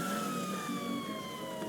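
Police car siren in the GTA 5 video game wails in long, steady, slowly falling tones, fairly loud and continuous over a low engine rumble, with no voices.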